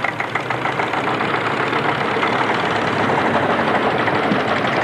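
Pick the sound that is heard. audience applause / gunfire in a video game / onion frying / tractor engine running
tractor engine running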